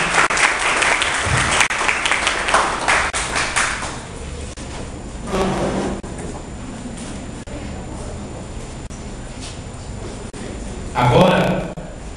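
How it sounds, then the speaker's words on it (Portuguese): An audience at an academic book launch breaks into applause. It is loud clapping at first, then fades into scattered claps, with brief talk and a shorter burst of clapping near the end. "Salve de palmas."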